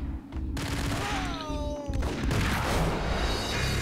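Gunfire from the Max Payne video game, a dense burst of loud overlapping shots with a ringing tone, over a continuous game soundtrack and a brief voice.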